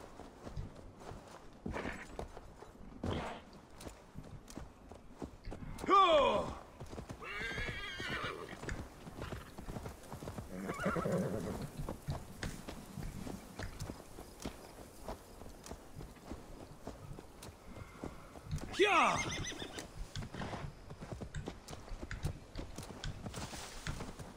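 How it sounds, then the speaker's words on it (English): Horse in the Assassin's Creed Valhalla video game, steady clip-clop of hooves trotting throughout with two loud whinnies breaking in, close and clear without talk. "Why is this horse so slow?"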